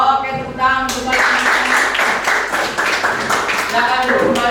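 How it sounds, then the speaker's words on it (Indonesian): Classroom applause of many hands clapping together, a dense steady patter after a brief spoken opening, with a voice talking faintly beneath the clapping. "Oke, tepuk tangan kembali."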